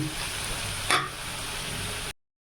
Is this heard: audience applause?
no